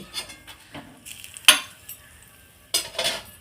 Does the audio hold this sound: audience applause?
no